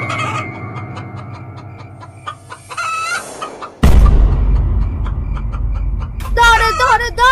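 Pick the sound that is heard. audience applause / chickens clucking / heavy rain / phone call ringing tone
chickens clucking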